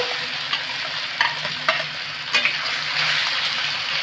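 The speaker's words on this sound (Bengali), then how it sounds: "আমি তেলের সাথে ভালো করে নেড়ে নেব কচুগুলোকে।" Boiled, cut taro pieces tossed in hot oil with fried garlic and green chili, a continuous loud sizzle broken by several clinks and scrapes of a spatula against the pan.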